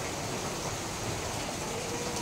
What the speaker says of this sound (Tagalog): Grabe ang ulan ngayon dito sa Bicol, Camarines Norte, Barangay Gabon